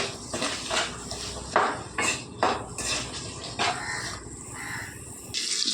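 A utensil scraping and clattering in a pan as onions fry for a tomato gravy curry, with repeated metallic stirring strokes in an uneven rhythm, close and fairly loud, over a steady sizzle.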